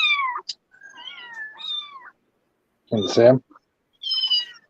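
A cat meows several times, short rising cries close by, with a person speaking briefly before them.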